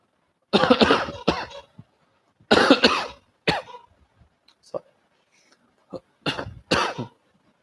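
A lecturer coughs several times at close range, with harsh bursts and some throat clearing separated by short pauses.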